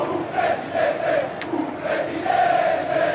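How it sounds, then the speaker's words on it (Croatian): AC Milan supporters gathered outside a cathedral at Berlusconi's state funeral chant in unison, a large crowd's rhythmic rising and falling voices heard from a moderate distance, steady and massed throughout. "Samo jedan predsjednik uzvikivali su ispred katedrale ispraćajući kovčeg sa tijelom Berlusconija"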